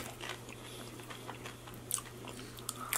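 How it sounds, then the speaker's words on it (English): Crunchy tortilla chips bitten and chewed during a Mexican food meal, soft crisp crunches scattered over a low background hum, with a few sharper bites near the end. "oh no, she's eating all the chips"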